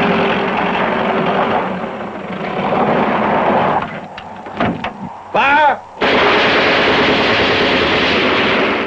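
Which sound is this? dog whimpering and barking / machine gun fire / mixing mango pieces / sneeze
machine gun fire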